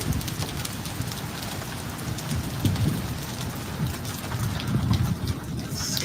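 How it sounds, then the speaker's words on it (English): Hail and rain falling outside during a tornado-watch storm, a steady dense patter with irregular clattering hits, fairly close and continuous, no talk. "Oh, look at the little hail. You see it coming down?"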